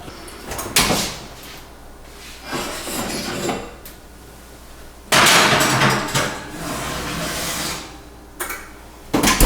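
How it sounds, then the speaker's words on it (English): Scalloped potatoes in a Dutch oven coming out of the oven: loud clunks and bangs of the oven door and heavy cookware being set down, with bursts of rattling and rustle between them, no talk. "I just pulled our scalloped potatoes out of the oven."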